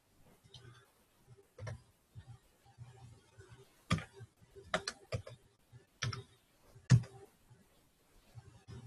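A computer keyboard is tapped in sparse, irregular clicks while room numbers are entered into a web form, with a few sharper louder keystrokes standing out against a quiet background.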